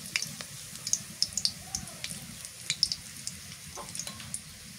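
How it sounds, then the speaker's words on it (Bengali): Onion and chili fry in hot oil with a soft, crackling sizzle, punctuated by small pops and spits, while garlic paste is added to the pan. "পেঁয়াজ আর মরিচটা লাল লাল করে ভেজে নিলাম এবার দিয়ে দিই রসুন বাটা হলুদের গুঁড়া"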